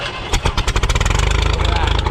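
A 50-year-old tractor engine cranks and fires on a cold start, rapid uneven chugging pulses building into a steady running beat, close and fairly loud.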